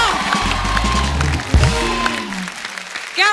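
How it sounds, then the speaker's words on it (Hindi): A studio audience on a Hindi comedy talk show claps and cheers to welcome actress Taapsee Pannu, a short loud burst of applause mixed with voices. "तापसी के लिए जोरदार तालियां।"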